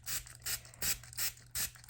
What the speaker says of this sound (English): you just spray hydrogen peroxide, right, like that